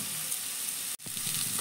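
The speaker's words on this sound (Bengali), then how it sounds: "এবার একটু উল্টে পাল্টে লালচে করে ভেজে নিব" Cauliflower florets being fried and turned in a pan until reddish for a cauliflower roast, a steady close sizzle with a brief break and stirring scrape, no talking.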